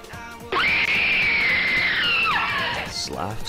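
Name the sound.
person screaming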